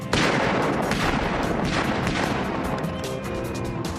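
A PSD firearm fires just after surfacing from water, a loud, continuous stream of sharp shots with a dense, booming character throughout.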